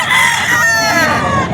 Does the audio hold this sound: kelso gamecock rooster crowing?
yes